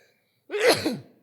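A single loud, close sneeze bursts out after a moment of near silence, sharp at onset and trailing off within about half a second.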